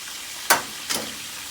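Egg rolls frying in hot oil, a steady soft hiss with two brief louder crackling bursts, close by with no talking.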